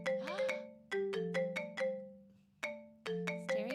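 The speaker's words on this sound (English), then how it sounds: "The ringing of the phone ceased and a familiar voice came from the phone." A phone rings in an otome visual novel game, a synthesized tone pattern of repeated bright melodic blips in several bursts, clear and alone with no voices.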